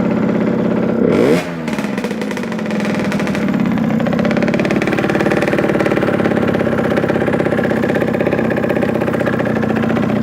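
A motorcycle engine idles steadily up close, a low chugging rumble with a brief rev and clatter near the start, then settling into an even idle.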